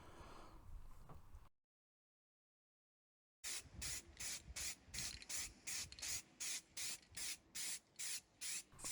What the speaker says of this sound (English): Then we went over with some plastic primer, just a few coats lightly.